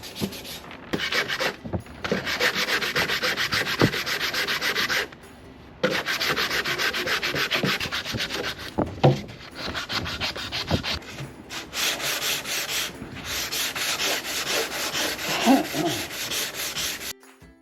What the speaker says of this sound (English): So this is a spot that obviously is going to need another layer because I'm sanding straight across.